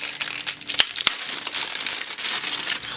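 Packaging of a Fujifilm Finepix XP70 camera being opened, with close crinkling and rustling of plastic and paper plus a couple of sharp snaps, continuous for a few seconds.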